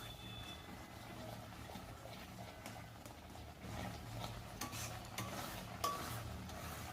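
A spatula stirs jujube (kul) pickle in a pan. The scraping and shuffling are faint and sit over a low simmering sizzle, with a few slightly louder strokes near the end.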